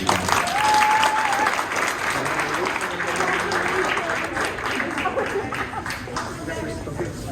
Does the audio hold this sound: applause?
yes